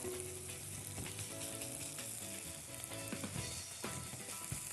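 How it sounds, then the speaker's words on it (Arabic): Onion sautés in a pan until yellowed, a continuous soft sizzle and crackle with occasional stirring scrapes, quiet and close. "البصله بصفرها، مش محتاجه اكتر من كده"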